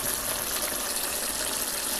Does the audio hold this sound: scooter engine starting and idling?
no